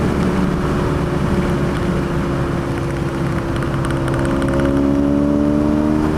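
A 1984 Honda V65 Sabre motorcycle cruising along, its engine humming steadily with a low, even drone and a gently rising pitch near the end, accompanied by constant wind rush and no voices.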